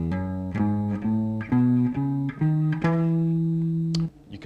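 Guitar plays a major scale upward note by note, about eight evenly spaced plucked tones with the last one held and ringing out, heard alone with no talking.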